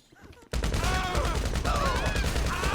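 Heavy automatic gunfire in GTA Online erupts suddenly after a quiet moment, continuing as a loud, dense fusillade of rapid shots close by.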